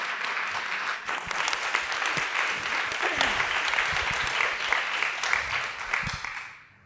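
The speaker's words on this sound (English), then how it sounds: "Please, a huge round of applause" A large audience at an MFA visiting artists and scholars lecture applauds with sustained, dense clapping that holds steady for several seconds, then fades out at the end.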